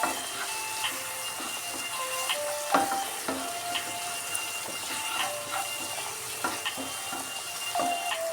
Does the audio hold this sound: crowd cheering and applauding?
no